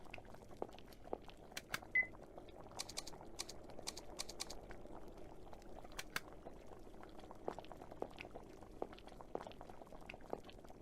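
A pot of water boils in a video game, a soft, steady bubbling with scattered light pops and clicks, low in level throughout.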